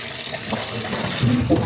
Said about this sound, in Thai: อันนี้เด็กคุณยายจะล้างหลายๆน้ำหน่อยนะคะ นี่วิธีล้างตับครับ